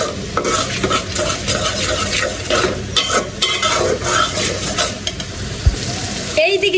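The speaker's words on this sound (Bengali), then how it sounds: "এখন মশলাটা কিন্তু ভালোভাবে কষিয়ে নেব" Spice paste stir-fried in hot oil for a Bengali fish curry, a loud, close sizzle with constant scraping and stirring against the pan and occasional metallic knocks.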